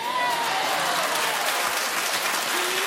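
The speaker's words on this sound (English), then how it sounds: "keep clapping, everyone" A television talk show studio audience claps steadily and loudly, a dense continuous wash of applause with a faint voice underneath.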